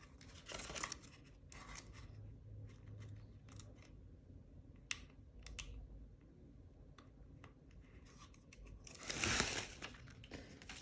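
A Dollar Tree mat is peeled away, giving sporadic crinkling and tearing snips at close range, with a louder ripping burst near the end.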